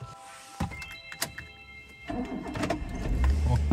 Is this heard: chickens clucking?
no